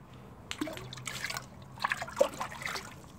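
Hydroponic nutrient solution A, about 250 ml, is poured into water, a soft trickling and dribbling with a few small splashes and drips, fairly faint and close.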